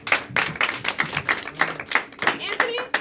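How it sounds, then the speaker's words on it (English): Scattered clapping from a small audience at a live event, a dozen or so distinct claps in an uneven rhythm, fairly close. "Gonna clap for them, everybody."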